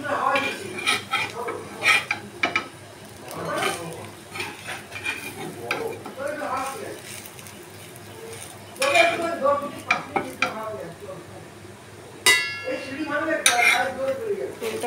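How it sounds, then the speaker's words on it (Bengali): A metal spatula scrapes and clinks against a pan, cutting an egg omelette into three pieces amid faint sizzling: irregular close scraping strokes and a few sharp clinks. "খুন্তি দিয়ে কেটে 3টে পিস করে দিলাম।"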